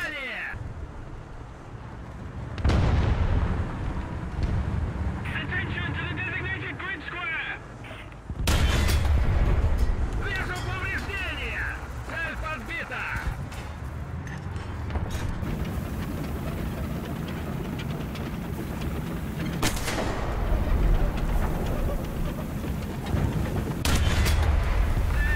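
Tank cannon shots and hits in War Thunder from a T-34-85E: a few heavy, booming blasts spaced well apart over a rumbling engine drone, with someone talking excitedly throughout.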